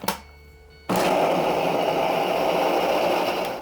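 A blender grinding onion and half a pear switches on with a sudden roar and grinds steadily at full power, a loud continuous whir that keeps going to the end.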